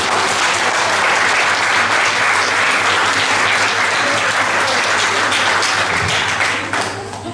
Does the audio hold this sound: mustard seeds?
no